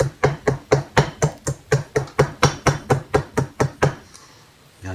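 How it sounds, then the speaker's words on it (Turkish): About fifteen sharp, hard strikes in a steady, even rhythm as a klingerite gasket on a chainsaw engine's aluminum part is hit to burst it, then the blows stop and it goes quiet. "aşağı doğru vuruyorum ki conta patlasın yırtılsın oradan"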